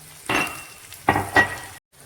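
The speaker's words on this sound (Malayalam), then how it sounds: "ഇതിലേക്ക് സവാള ഇട്ട് കൊടുക്കുകയാണ്. സവാളയുടെ കൂടെ തന്നെ ഇഞ്ചി കട്ട് ചെയ്തതും പച്ചമുളകും കൂടെ ഇട്ട് കൊടുക്കുന്നുണ്ട്." Sliced onion, chopped ginger and green chili drop into hot oil in a pan for potato stew, giving two or three close bursts of sizzling that quickly settle.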